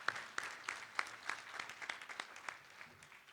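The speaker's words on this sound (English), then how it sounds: "let's give him a round of applause as well." Sparse, uneven handclapping from a small workshop panel audience welcoming a former national officer and panel founder, individual claps distinct and moderately near, tapering over a few seconds.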